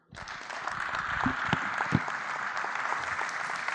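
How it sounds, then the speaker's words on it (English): Conference attendees at a tourism event break into applause after a hotel presentation, the clapping swelling quickly from silence into a loud, dense, continuous roar of hands. "A continuous round of applause for that awesome presentation by Echo Hotels and Suites"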